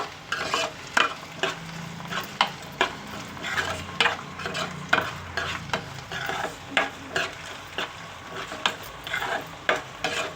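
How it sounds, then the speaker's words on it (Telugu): Tempering for coriander tamarind stew frying and sizzling in a pan, with a spoon stirring in steady repeated scrapes and clinks throughout, close and fairly loud. "రెండు కలిపి వేసిన చూడండి ఎలా వేగాలి"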